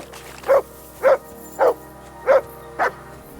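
The dog Mutt in Kingdom Come Deliverance 2 gives five evenly spaced, loud, close barks, each short and sharp, over a low steady background hum.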